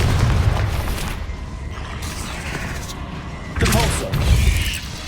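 A Confringo blasting spell explodes in the Hogwarts Legacy video game, deep booming bursts at the start and again near the end amid busy combat noise.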